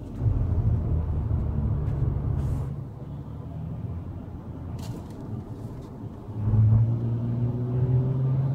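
A 2016 Nissan Maxima S with a CVT pulls away hard on a test drive, its engine droning low and steady in the cabin, easing off and then rising again in a second surge.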